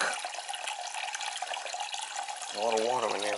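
Water runs and splashes steadily inside the hollow enclosure of an icing-up air-conditioning unit, and a voice begins talking over it near the end.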